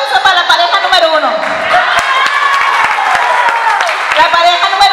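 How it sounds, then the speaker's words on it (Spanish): An audience at a dance contest applauds a competing couple, with dense steady clapping, some cheering and whoops, and a voice over a loudspeaker at the start, loud and continuous throughout. "un aplauso para la pareja número uno"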